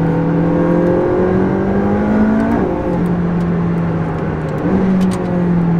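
A sports car engine drones and rises in pitch through gear changes, with faint sharp pops crackling from the exhaust, close and loud, from a Honda NSX or McLaren 675LT.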